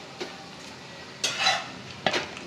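Spices with salt, turmeric and chili powder are stir-fried in a pan for puti fish chachchari: a low background sizzle broken by a few distinct scraping stirs of a spatula against the pan, close and without talk.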